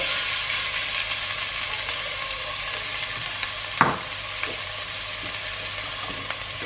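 Chopped onions fry in hot oil in a pot, a dense, even sizzle that carries on steadily, with a single sharp clink of a utensil partway through and no talking.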